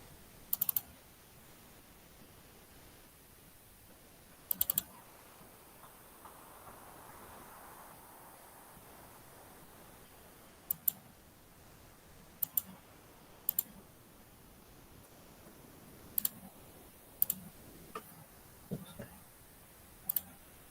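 Sharp, isolated clicks from a computer mouse or keyboard, about a dozen spread unevenly across a quiet room with faint background hiss, sometimes in quick pairs.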